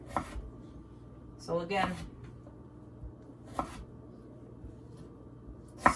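A knife chops a potato into squares on a cutting board, giving a few sharp, close knocks and a brief cluster of quick cuts spread across the clip, with a voice speaking briefly over them.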